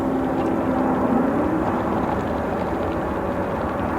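Boeing 777 airliner arriving from Doha at Chicago O'Hare, a steady, continuous broadband jet roar filling the scene throughout, loud and unbroken with no distinct peaks.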